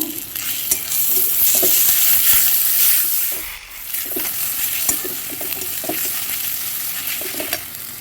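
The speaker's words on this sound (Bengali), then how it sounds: "নিয়ে একটু আবারও মশলাটা কষে নেব।" Ginger and garlic paste sautéing with spices in a hot pan, a steady close sizzle with repeated scraping stir strokes, briefly dipping around the middle before carrying on.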